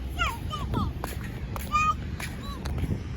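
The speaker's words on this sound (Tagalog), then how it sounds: "Bird." Geese honk several times at a distance during a morning walk outdoors, the short calls faint under a steady background hum, with a voice speaking briefly nearby.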